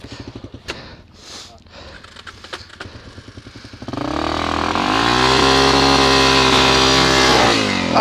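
After some clattering handling sounds, a trail motorcycle's engine catches while it is pushed and then revs hard, a loud, steady roar rising and holding close by for the rest of the moment.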